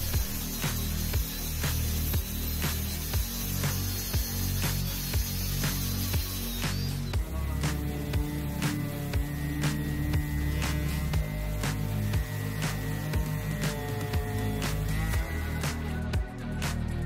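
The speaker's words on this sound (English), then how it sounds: "The sandpaper flapper disc worked the best and made short work of removing the glue." A sandpaper flapper disc on a power tool grinds glue off an aluminum boat panel during a Bass Tracker Pro Team TXW restoration, a steady close abrasive whir with rhythmic scraping pulses throughout.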